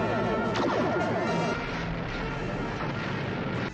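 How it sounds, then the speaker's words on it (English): Photon torpedoes fire as a sound effect in Star Trek: The Original Series. A loud, dense burst booms and sustains for several seconds with a rough, rumbling texture. "Fire photon torpedoes."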